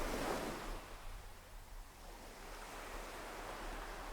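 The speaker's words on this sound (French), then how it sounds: "Le bruit des vagues et l'air salé vous invitent" Ocean waves wash and surge in a soft, steady roar, with a fuller swell at the start easing into a continuous faint rush; no voices.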